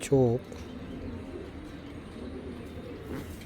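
A female Giribaz high-flying pigeon of the Naptamashal type gives one short, loud coo right at the start, followed by a faint, steady background murmur.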